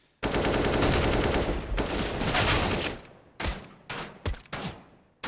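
Heavy automatic gunfire from a Counter-Strike match on the Dust2 map: a sustained, loud volley for about three seconds, then several separate sharp shots and short bursts spaced apart, with no voices.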